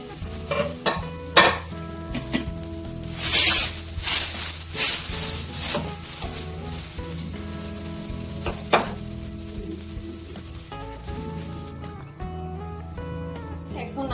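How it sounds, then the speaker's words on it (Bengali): Grated coconut sizzles in a frying pan while being stirred, with repeated scraping strokes and soft crackling over a steady tonal background, softening toward the end. "এখন আমি ফ্রাই প্যানের মধ্যে নারকেলগুলো দিয়ে দিচ্ছি"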